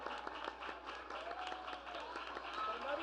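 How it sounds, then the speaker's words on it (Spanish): Lively applause from a legislative gathering honoring a deputy on her birthday, steady clapping from many hands with faint voices mixed in, heard somewhat distantly. "le brindamos un muy fuerte aplauso"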